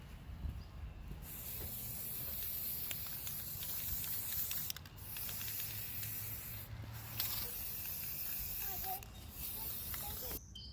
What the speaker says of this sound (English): He's spray painting the spear.